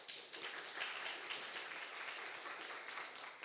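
Audience at a university career lecture claps to welcome a speaker, a dense, even patter of many hands heard from some distance, fairly quiet and lasting the whole stretch.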